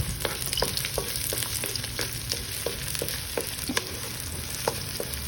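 Spring onions sizzling in a chicken cabbage stir fry, a steady frying hiss broken by regular scraping stirs of the utensil against the pan, close and alone.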